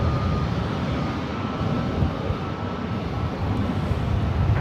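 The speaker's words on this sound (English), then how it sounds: "Flight 1300 coming in from Seattle, on a 737-900 ER" A Boeing 737-900ER arriving at LAX from Seattle gives a steady, broad jet roar that holds at a constant level and stays loud throughout.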